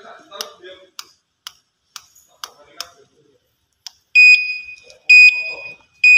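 Turn signal on a Winfly RF6 electric bicycle, heard as a run of soft, regular clicking ticks followed by loud, piercing electronic beeps in short repeated bursts, close and with occasional voices around it.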